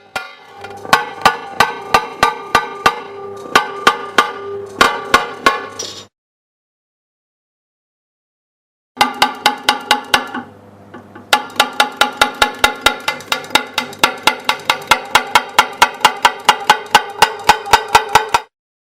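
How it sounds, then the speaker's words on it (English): A cut opener taps along a cut in thick glass in quick series of sharp, ringing metallic clicks, close and crisp, with a silent pause in the middle before a longer run of even taps. "Open the whole circle at the lowest tapping force possible in the opposite direction to that in which the cut was made."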